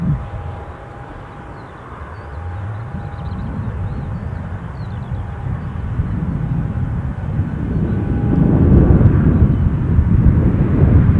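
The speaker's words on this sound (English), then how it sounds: "Again, those Ryanair circuits, just getting those landings teed up, I'm guessing, for the touching and going." A Ryanair airliner flies touch-and-go landing circuits at Newcastle airport, its engine roar steady at first and then swelling louder toward the end, continuous and fairly close with some wind noise.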